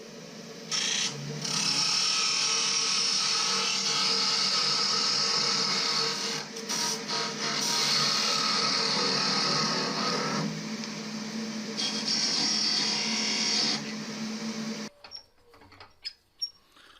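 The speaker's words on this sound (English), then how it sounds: "Alright, so it's time to part this one off." Wood lathe spinning a birdhouse finial as it is parted off, a steady whirring hum with scraping tool contact that stops abruptly near the end, leaving a few light knocks.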